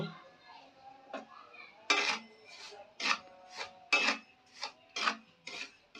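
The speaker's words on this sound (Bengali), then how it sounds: "এবার সুজিটা একটু হালকা ভেজে নেব" A utensil stirs semolina that is lightly frying in a pan, making a steady series of dry, rasping scrapes about once or twice a second, close up and fairly quiet.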